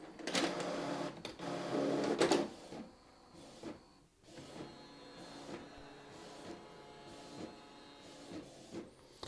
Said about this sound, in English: And now it's scanning the document and printing it.